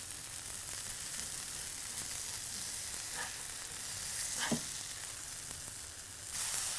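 Bison bacon sizzles and fries steadily on a hot griddle, a constant close hiss with a few faint scrapes and pops, and no talk over it.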